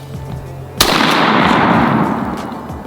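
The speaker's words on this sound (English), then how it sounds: "Should I shoot the 50 now?" A single loud shot from a .50 caliber gun during a turkey hunt outdoors, a sharp blast followed by a long rumbling decay that fades over two seconds.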